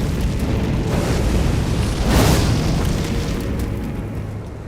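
Fire sword Flaming Strike attack in a video game, a loud whooshing fiery roar that swells to a burst in the middle and then slowly fades under constant rumbling noise.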